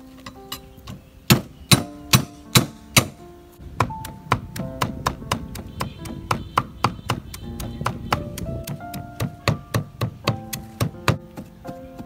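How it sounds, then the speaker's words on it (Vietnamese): Lemongrass being chopped on a board to marinate lizard meat, a long run of sharp knife thunks in an uneven rhythm, sometimes quick bursts, sometimes spaced, close and distinct with no talking. "giờ mình sẽ bầm xả để ướp gắn mối luôn nha."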